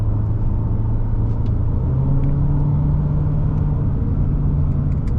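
A 2022 Toyota Corolla Cross engine drones steadily up close, its pitch stepping up partway through as the gear changes down, with a low rumble throughout.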